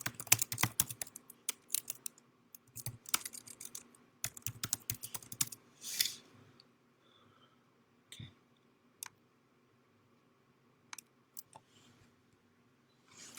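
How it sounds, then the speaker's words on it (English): Rapid clattering keystrokes on a computer keyboard, dense and busy for several seconds, then thinning to scattered taps and clicks with quiet gaps. "I can't have you typing while I'm talking."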